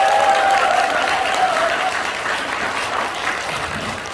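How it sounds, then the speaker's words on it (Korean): A large audience claps loudly and steadily, the applause fading slightly toward the end. "나 자신의 성공을 위해서 크게 박수 한번 치고 시작하도록 하겠습니다."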